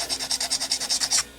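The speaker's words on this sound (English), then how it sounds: "I'm going to hit it with some sandpaper, light sandpaper, let's call it 600." Fine 600-grit sandpaper rubbing back and forth on guitar frets, about ten quick, even strokes in a steady rhythm, close and clear, then stopping.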